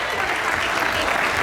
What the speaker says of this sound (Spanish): Y un aplauso, por favor, para él muy fuerte